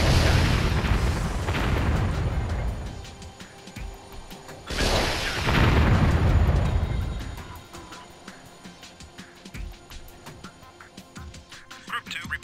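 Artillery fire in Warzone 2100 lands as two heavy booming blasts, the first at the start and the second midway, each rumbling out before quieter scattered battle noise continues.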